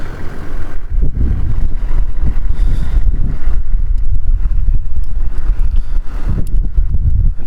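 Strong gusty wind batters the microphone outdoors on a sunny day beside a Toyota Land Cruiser HZJ77, a constant loud rumbling roar with no pauses and no voices.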